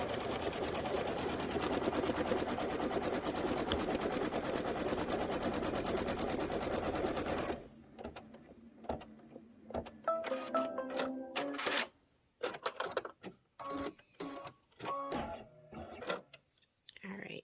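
An embroidery machine stitches a basting line on background fabric with a rapid, steady mechanical chatter. It then stops, leaving intermittent clicks and handling sounds while a person talks.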